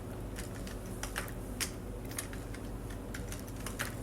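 Quiet, irregular clicks of a computer keyboard as code is entered in Excel VBA, the keystrokes coming in small clusters with short gaps against a faint steady background hum.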